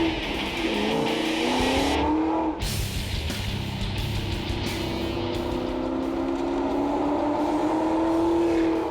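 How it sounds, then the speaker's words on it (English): A 600-horsepower supercharged Mazda B2500 pickup does warm-up laps on a wet racetrack, its engine revving and shifting loudly and continuously up close, with rising pitch sweeps through the gears. "this truck's only seen street miles, so we want to be cautious, give it a few warm-up laps"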